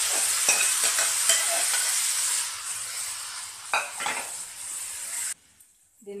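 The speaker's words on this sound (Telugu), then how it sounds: "అల్లం ముక్కలు వేసి ఒకసారి బాగా కలిపేసి ఉడికించిన క్యారెట్, పెసరపప్పు వేసేసుకోవాలి" Boiled carrot and moong dal fry with ginger and green chilli as a spoon stirs through the pan, giving a loud close sizzle with scraping strokes before it drops away near the end.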